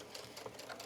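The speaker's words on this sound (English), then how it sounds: "I'm going to do a couple back stitches." A sewing machine runs a few quick back stitches through a towel, a soft, faint, rhythmic whirring burst lasting under a second with no voices.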